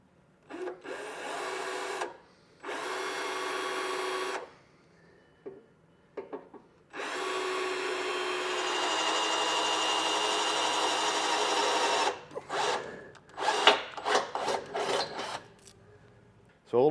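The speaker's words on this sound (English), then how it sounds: "We're going to drill those 2 spots out." Power drill boring two holes with a 1/4-inch bit during installation of an Air Lift WirelessONE compressor system on a 2019 Ford, with two sustained buzzing runs of a few seconds each followed by shorter bursts and clatter.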